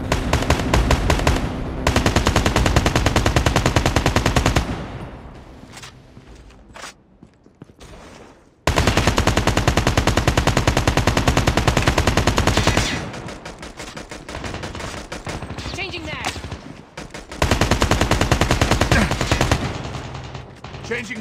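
Automatic AK-47 rifle fire in a Call of Duty search-and-destroy match, with loud sustained bursts broken by quieter gaps where footsteps and mechanical clicks come through.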